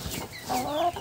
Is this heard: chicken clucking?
yes